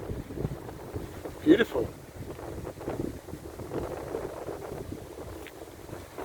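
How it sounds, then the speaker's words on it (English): Wind buffets the microphone while walking along the coast from Ramsgate toward Broadstairs and Margate, a steady rushing roar with gusts, under a brief spoken word. "finally the wind is behind us instead of blowing in our faces"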